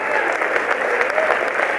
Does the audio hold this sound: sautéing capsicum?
no